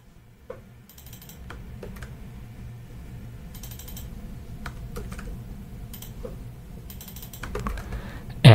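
Keys clatter on a computer keyboard as a prompt is typed, a quiet, irregular run of clicks over a soft room hum, with a slightly louder keystroke at the end.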